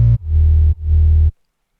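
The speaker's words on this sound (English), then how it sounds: "The sub's gonna go ahead and sound like this." A deep, distorted synth sub bass, patched in Serum to remake the sub from a track, plays two loud sustained notes with a short gap between them, then cuts to silence.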